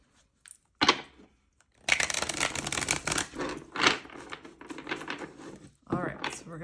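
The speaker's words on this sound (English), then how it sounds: "One more shuffle." An archangel oracle card deck is shuffled by hand, giving loud papery riffles and flicking card slaps in bursts after a couple of sharp taps, close and dry, with no talking.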